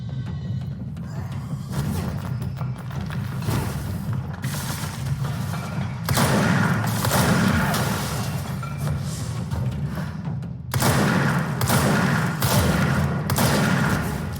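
Shotgun blasts in the video game Control, heavy booming shots bursting at irregular intervals over a low mechanical rumble, loud and close.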